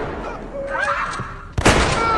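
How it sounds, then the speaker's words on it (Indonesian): A gunshot in a film scene: after a stretch of quiet dialogue-like sound, one sudden sharp loud blast cuts in near the end with a brief reverberant tail. "Sally pun ditembak hingga dia sekarat."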